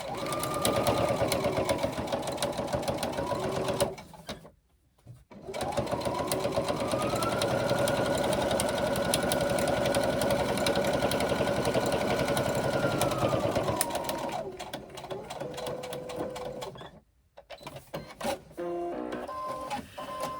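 A sewing machine runs a 3/8 inch seam across a pocket and exterior fabric piece, a steady fast mechanical whir that pauses briefly twice before starting up again, close and continuous with no talk.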